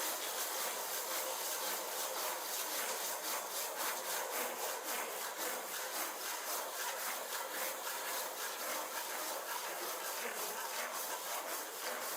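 Rapid, even strokes of a hand saw grind through fairly hard camphor wood, a dense rhythmic rasp that continues without pause, near and alone.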